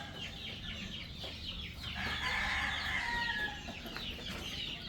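Chickens in an indoor farm brooder cluck and chirp continuously in a soft, busy chorus, with overlapping calls rising briefly in the middle.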